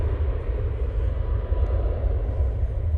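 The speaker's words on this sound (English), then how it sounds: "Now blasting off. It's one of their A321 Neos." An EasyJet Airbus A321neo jet blasting off the runway at Manchester Airport, a loud, steady engine roar with deep rumble held close and continuous throughout, no voices over it.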